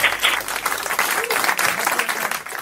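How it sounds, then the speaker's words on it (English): The NASA team bursts into cheering and applause after landing a golf cart-sized Mars rover, a dense roar of clapping and excited voices filling a large room. "That is the sound of cheers from the team at NASA that successfully landed a totally bonkers"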